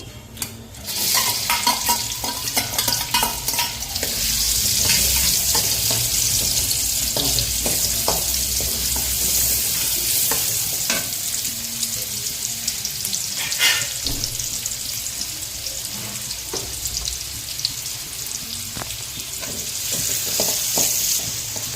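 Onions frying in a pan for green chilli chicken, a loud, close, continuous sizzle with intermittent scraping and clinks of a spoon stirring throughout.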